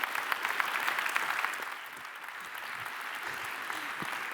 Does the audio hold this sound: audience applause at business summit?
yes